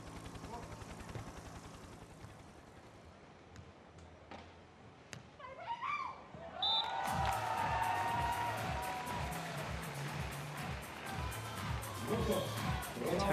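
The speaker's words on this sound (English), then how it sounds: "It's a capacity crowd pretty much for this women's gold medal match here in Moscow." Capacity crowd at a women's beach volleyball gold medal match in Moscow, a dense sustained roar of cheering that swells sharply partway through and stays loud, with a commentator talking over it.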